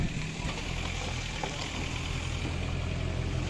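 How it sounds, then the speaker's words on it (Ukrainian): A generator in a mobile repair workshop vehicle runs steadily, a continuous low engine drone with an even hum throughout, no talking. "Это генератор. И сам возбуждається."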